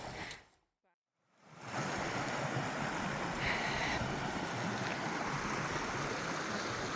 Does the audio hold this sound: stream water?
yes